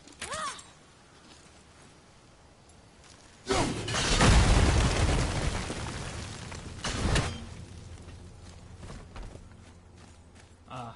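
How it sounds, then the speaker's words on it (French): A loud rumbling blast erupts in the video game God of War after a quiet stretch, swelling into a sustained roar with a second burst, then settling back into low ambient sounds and faint clicks. "Ok, ça explose."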